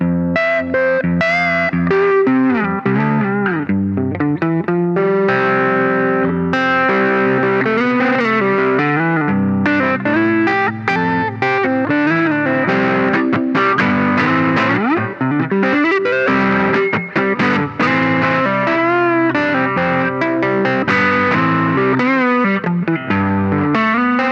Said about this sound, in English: Let's move on to the last effect, distortion. I'm gonna try it on a subtle setting first